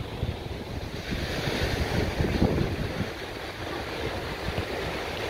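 Ocean waves wash onto the beach at Balneário Camboriú, a steady surf roar mixed with wind buffeting the microphone, with no talking.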